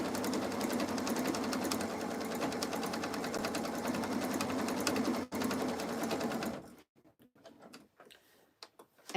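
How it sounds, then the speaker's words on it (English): A Pfaff Creative Ambition 635 sewing machine stitching lace runs in a steady, rapid whir for about seven seconds, close by, then stops, leaving a few faint clicks and handling sounds. "now we're sewing it down on the top"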